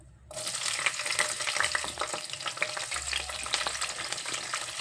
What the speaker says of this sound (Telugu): ఇప్పుడు మనం పచ్చిమిరపకాయలు వేసుకోవచ్చు